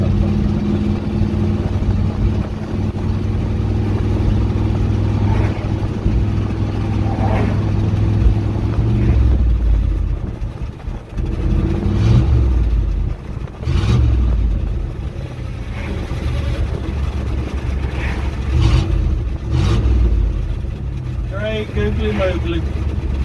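A 1971 Dodge D100 truck with a suspected clogged fuel pump or filter idles steadily and loud, then sputters and dies around the midpoint, leaving quieter low rumbles and clatter with someone talking over it.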